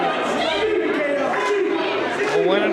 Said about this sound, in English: You can hear this crowd at the Fourth Pro Battleground starting to fire up for Sheik